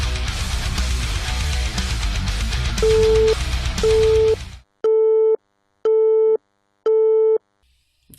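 Background chatter and noise give way to a telephone busy signal, repeated short beeps at an even pace, clear and isolated.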